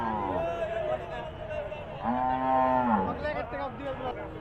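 A pregnant Holstein Friesian cow at a cattle market moos twice, a short call then a longer, louder one, near and clear over background chatter and low noise.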